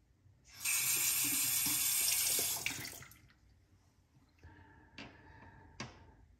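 A bathroom tap runs steadily for about two seconds while a face is wetted before shaving. Afterward come close, softer splashes and a few brief clicks or taps.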